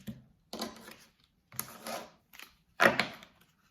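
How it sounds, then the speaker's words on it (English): Oracle cards are cut by hand into three piles, giving three separate bursts of papery shuffling and slapping, each lasting about half a second, with quiet gaps between them and a sharper final stack. "I'm going to cut them with my left hand into 3 piles"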